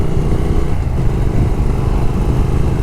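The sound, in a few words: Triumph motorcycle engine during a demo ride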